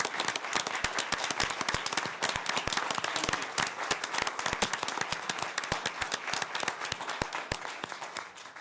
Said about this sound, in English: Can we give these guys a big round of applause,